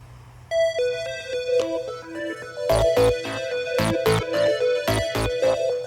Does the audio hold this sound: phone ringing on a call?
yes